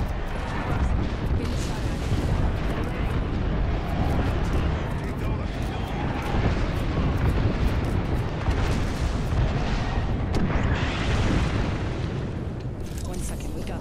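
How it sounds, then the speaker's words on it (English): Airstrike explosions in the video game Apex Legends: a continuous barrage of deep booms and rumbling blasts, loud and dense throughout, with voices talking over the bombardment. "Head down. Airstrike."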